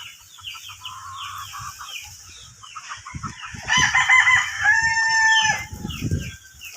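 A backyard gamefowl stag, a gold, clucks softly and then lets out a loud, close crow, with other birds clucking around it.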